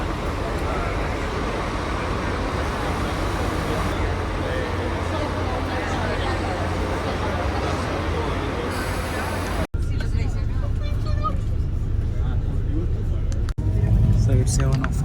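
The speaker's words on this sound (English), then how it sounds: "That's a line. This It's a bus terminal." Busy bus terminal in Montevideo, Uruguay, with a steady wash of idling engines, traffic rumble and crowd murmur, a low motor hum throughout and people talking nearby.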